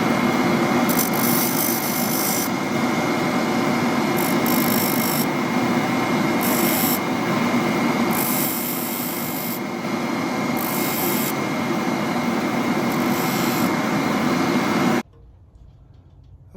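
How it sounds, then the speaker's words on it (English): A disc sander grinds steadily at a bentwood ring for about fifteen seconds, a loud continuous whir with rhythmic rubbing surges as the wood is pressed and shifted, then the motor cuts off into near silence. "I just want to disc sand those down."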